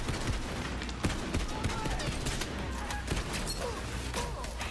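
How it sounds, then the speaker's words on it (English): Rapid bursts of rifle fire crackle in the shooter game Borderlands 3, dense overlapping shots with impacts and explosions amid game noise, a voice speaking intermittently beneath. "It's a burst rifle."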